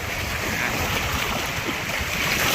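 Strong sea waves wash around a small boat built from metal drums, a loud, continuous roar of surf and wind buffeting the microphone, with no voices.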